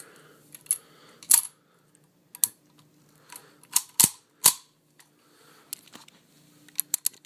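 SKS rifle loaded from a stripper clip: a series of sharp metallic clicks and clacks as rounds are pushed into the magazine, irregular and close, with a louder snap near the end and quiet gaps between.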